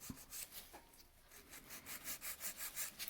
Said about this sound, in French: je vais commencer par me limer les côtés